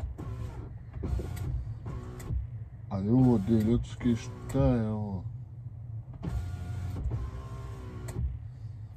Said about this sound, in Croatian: Malo otvorimo je prozore